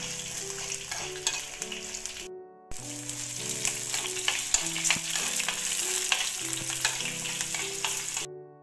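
Shallots, dried red chilies and curry leaves fry loudly in hot oil for a Kerala fish curry, with a dense continuous sizzle and repeated stirring scrapes close by; the sizzle drops out briefly once.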